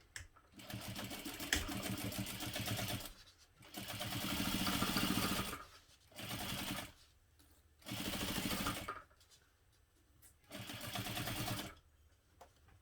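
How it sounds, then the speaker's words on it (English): A sewing machine stitches a backpack, running directly over a previous line of stitching in several bursts of steady mechanical stitching, pausing briefly between runs, close and fairly loud. "I'm sewing directly over the previous line of stitching"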